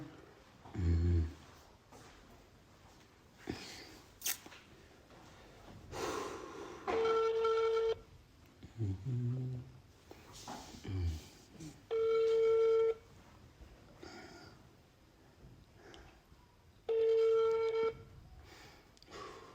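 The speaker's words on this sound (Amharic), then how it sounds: "የደወሉላቸው ደንበኛ ቴሌፎን ጥሪ እያስተላለፈ ነው" A telephone rings in evenly spaced bursts during an outgoing call, each ring lasting about a second, with short stretches of a person talking in between.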